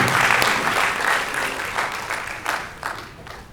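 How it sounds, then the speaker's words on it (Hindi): At a theatre workshop performance of dance, songs and a play, an indoor audience claps loudly at first, and the applause slowly thins and fades over a few seconds. No voices are heard. "एक बार मेरी तरफ से जोरदार तालियां।"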